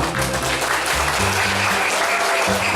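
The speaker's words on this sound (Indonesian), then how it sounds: "Tepuk tangan dulu untuk SMP 2." Applause for the SMP 2 school at a launch ceremony for a population-alert school in Gorontalo: a dense, steady wash of many hands clapping that fills the whole stretch, close and loud, with a low hum underneath.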